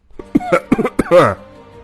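A man coughs several times in quick, harsh bursts, then lets out a longer strained throaty sound, close and fairly loud.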